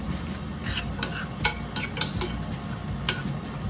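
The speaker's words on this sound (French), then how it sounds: "je le tourne, ou je le remue" Lemon-seasoned fish being stirred and turned in a dish, giving soft scraping and clinking of utensil against the dish in irregular strokes, close up over a low steady background hum.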